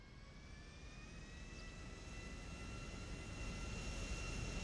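A small jet aircraft's engine in the video game GTA 5, a steady whining turbine drone with high tonal whistles that slowly grows louder over a few seconds, with no talk.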